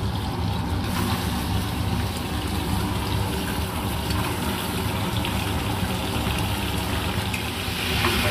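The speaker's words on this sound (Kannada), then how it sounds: "ನೀರು ಹಾಕ್ಬಿಟ್ಟು" Water gushes steadily into a pot of mutton sambar, making a continuous rushing, splashing pour that stays at an even, fairly loud level throughout, with no talking.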